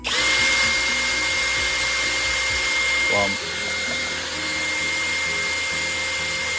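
A motorized case prep tool whirs steadily while chamfering and deburring the inside and outside of brass cartridge case mouths, a loud continuous motor whine with scraping contact at the start, then a slight drop in pitch as it runs on.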